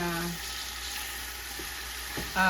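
Palabok shrimp sauce being stirred in a frying pan, with a steady, even sizzle and soft scraping that runs throughout, plus a brief clatter near the end.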